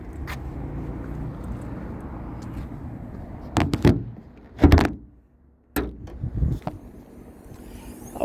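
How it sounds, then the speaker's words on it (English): The hood of a 2020 Ford Edge ST is opened, with a few sharp latch clunks and thumps close by, a heavier thud midway, then quieter handling noises over a low background hum. "Let's pop the hood in the engine bay."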